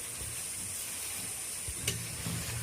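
Ground coriander and Kashmiri red chili powder frying in oil while being stirred for a Bengali tengra fish curry, a steady soft sizzle and hiss with faint scraping stir sounds.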